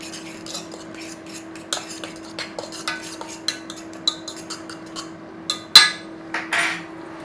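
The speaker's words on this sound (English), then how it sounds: "Give it a stir. In with our lemon zest. Give it a stir round." Lemon zest stirred into couscous in a bowl, a run of sharp metallic spoon clinks and scrapes against the dish, irregular and close, with a louder clatter near the end and no talk.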